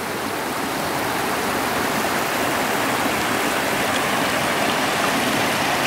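Continuous rushing of Guyot Creek flowing over rocks in the Sierra Nevada mountains along the John Muir Trail, a steady broadband wash of water close by with no other sounds.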